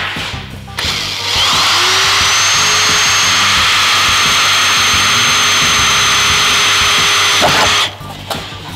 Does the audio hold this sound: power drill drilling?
yes